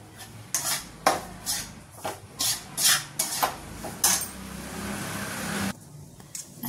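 Gram flour (besan) being roasted over a low flame, stirred with a spatula in a pan in rhythmic scraping strokes, about eight close, distinct bursts, ending in a quieter stretch.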